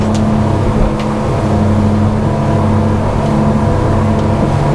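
Engine of a Monterey 298 American muscle boat turning at speed through waves, a loud steady droning roar with a strong low hum and a constant rush of water and wind, no talking.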